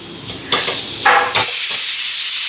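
A pressure cooker of rice lets off a loud, close steam release, building from a low hiss into a sustained forceful rushing whistle that fills the rest of the moment.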